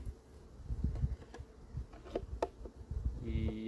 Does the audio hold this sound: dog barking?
no